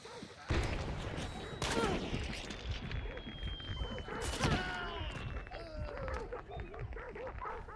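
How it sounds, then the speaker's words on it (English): A grenade airbursts in the game Hunt: Showdown, with several sharp explosive blasts and crackling gunfire-like bangs over a busy background, and short bursts recurring across the clip. "I'm able to airburst a grenade so it can damage a target on the other side of this building"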